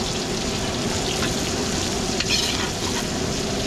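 Garlic and onions sautéing for kare-kare at a large catering cook-up, a loud, dense, continuous sizzle with faint stirring scrapes, close and without speech.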